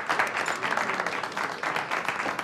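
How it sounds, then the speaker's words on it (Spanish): Crowd applause at a political gathering, a dense burst of many hands clapping together, steady and close throughout with a few cheers rising above it. "Por favor, un aplauso."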